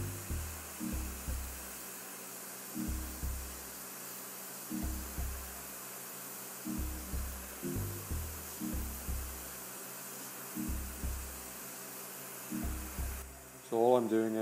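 Hot air rework station blowing at 200 degrees and 80 airflow onto an iPhone 6 Plus logic board, a faint steady hiss beneath repeated low rhythmic thumps.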